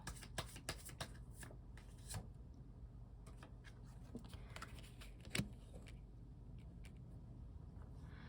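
Tarot cards shuffled and drawn during a reading: soft, continuous riffling and sliding with a few sharper flicks and taps, fairly quiet and close, with no talking over it.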